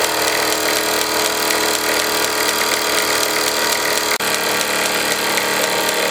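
A Meccano MEC1 steam engine drives a workshop grinder and polisher, giving a continuous, even mechanical whir and rattle with one brief click partway through.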